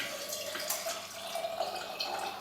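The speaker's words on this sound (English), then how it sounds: "So we're going to pour the mix in, filled half a glass up there" A drink mix is poured into a glass for a cocktail, giving a steady liquid trickle with small splashing drips, close and moderately loud, alone without talk.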